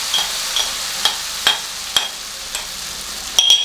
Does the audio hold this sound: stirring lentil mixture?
yes